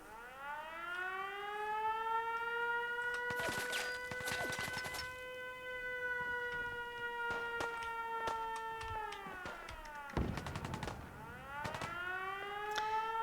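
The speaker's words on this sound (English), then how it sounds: "So yeah, we turn that alarm on and summon some Deathclaws." Alarm siren in the video game Fallout, wailing in long sustained tones that rise, hold steady, then fall, loud and close, with brief clattering noises midway and near the end.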